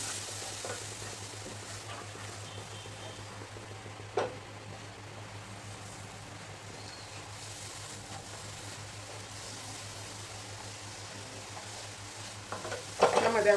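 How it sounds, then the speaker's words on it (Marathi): Spice masala sautéing with a few spoons of water in a pan, a soft steady sizzle and low hum with occasional spoon scrapes and a louder clatter at the very end. "हे मसाले व्यवस्थित परतण्यासाठी आपण ज्या भांड्यामध्ये मसाला काढला होता विसळून पाणी घातले तीन चार चमचे"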